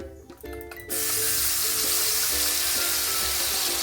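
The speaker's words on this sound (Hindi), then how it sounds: "और हमने जो टमाटर का पेस्ट बना के रखे हैं, टमाटर काजू का, वो हम इसके ऊपर डाल देंगे।" Tomato and cashew paste poured into a hot pan for a jackfruit curry made without onion or garlic, bursting into a loud, steady close sizzle that holds without a break after a short quieter start.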